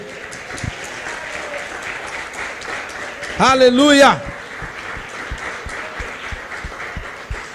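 Congregation applause in a church service, a continuous broadband clapping wash under a preacher's voice, with a brief loud sung exclamation in the middle.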